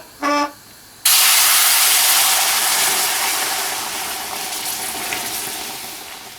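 Hot sugar syrup poured into semolina roasted in ghee for suji halwa, an abrupt loud burst of hissing sizzle that stays strong and slowly fades, with a short tone just before.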